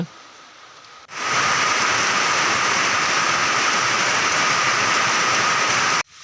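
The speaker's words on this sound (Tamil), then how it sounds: "இப்போ பார்த்தீங்கன்னா மழை நல்லா ஜோராக பெஞ்சிட்ருங்க" Heavy rain pouring down in a dense, steady hiss that starts abruptly after a second of quieter background, holds loud and even, then cuts off near the end.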